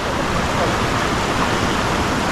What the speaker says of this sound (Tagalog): meron ditong napakagandang ilog.